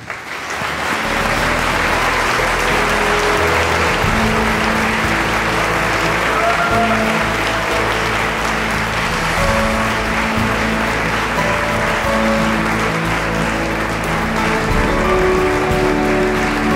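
An audience applauds an award winner at a ceremony, with sustained, dense clapping that stays loud and steady for the whole stretch, free of speech.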